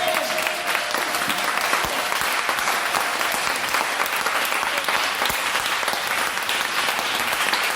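A church congregation breaks into steady, loud applause, many hands clapping together in an even, continuous wash that fills the room with no pause.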